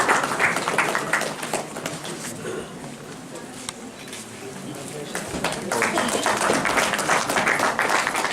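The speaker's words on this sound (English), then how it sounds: "Guys, can we have a round of applause?" An audience claps for award winners at a traffic-related valedictory prize distribution ceremony, loud applause at the start and again toward the end, with a quieter stretch of crowd murmur between.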